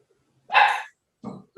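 Dog barking during an online public library board meeting: one loud close bark followed by two shorter, softer woofs in quick succession, with no talk.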